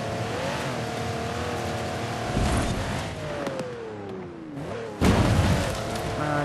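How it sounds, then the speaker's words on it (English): In the Forza Horizon 4 racing game, a Mercedes-Benz G65 AMG engine labours through sand, its drone rising and falling in pitch with bursts of louder revving, with no talk over it. "You can hear the engine struggling a little bit."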